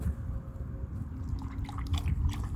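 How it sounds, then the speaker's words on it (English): A dog laps water from a bowl indoors, making soft wet slurping and dripping sounds that grow more rhythmic toward the end, quiet and close. "Look at her drink her water."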